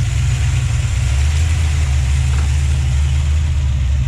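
A 1970 Plymouth Duster's 340 V8 idles on a newly fitted carburetor, running rich, with a loud, close, steady low rumble throughout.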